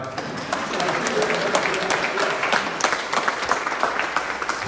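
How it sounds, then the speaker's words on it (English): Applause from an audience at a political town hall at Simpson College, Indianola, a dense, steady wash of many hands clapping, sustained throughout at moderate loudness. "you want to clap for that, you can"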